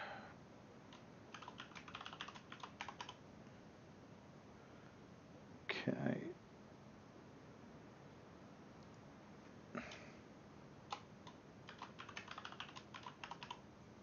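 Fingers typing a password on a computer keyboard, heard as bursts of quick clicking keystrokes spread across the stretch, with a brief louder sniff-like noise in the middle and otherwise quiet room tone.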